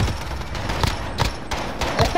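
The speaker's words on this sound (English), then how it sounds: "I fired like two bullets and I didn't even shoot at them" Game gunfire in a 2v2 online shooter wager match: a few sharp, moderately loud shots in uneven bursts over steady background game noise, with no talk.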